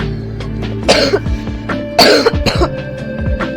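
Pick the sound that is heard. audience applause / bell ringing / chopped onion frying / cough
cough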